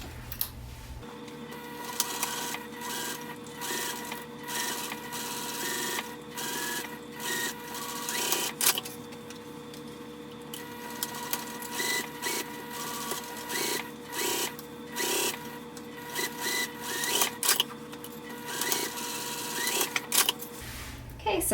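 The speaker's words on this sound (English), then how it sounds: "Let's go ahead and sew it." A sewing machine stitches the seam of a hobo bag in repeated short runs, a close mechanical whirring that starts and stops in bursts, with quiet pauses between stitching runs.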